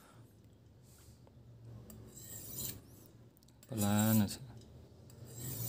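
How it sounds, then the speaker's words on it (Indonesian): A Drita Turkey slaughter knife blade is drawn across a sharpener in light rasping strokes, close up. A louder grinding pass comes near the end, and a voice speaks briefly in Indonesian. "Yang penting mata bilahnya terkena sharpening tipis"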